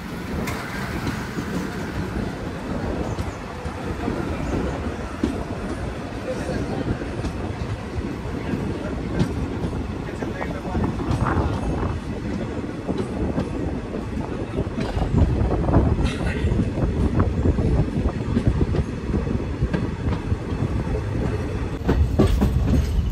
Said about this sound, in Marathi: आपली गाडी आता हरंगुळ रेल्वे स्टेशन येथून निघालेली आहे.